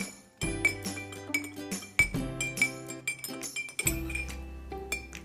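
A spoon clinks repeatedly against the sides of a cup while stirring sugar and red food coloring, bright close taps arriving in quick rhythmic bursts with short pauses between them.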